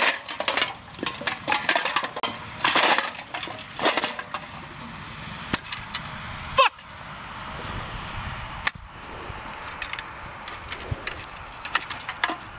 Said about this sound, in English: I grab the rake and I head out past the full cords lengths and pull them all within distance of the blower